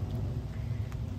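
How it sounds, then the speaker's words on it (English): Steady rain falling outdoors, a continuous soft hiss with a low rumbling wash underneath and a few faint patters, no voices present. "It's raining,"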